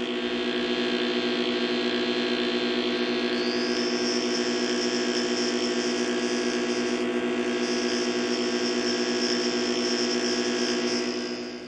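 A synthesizer with its filter resonance turned up, giving a steady buzzy, nasal drone with a bright resonant edge rising partway through, continuous and loud with no talking.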